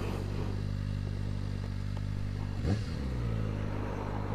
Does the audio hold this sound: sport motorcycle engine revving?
yes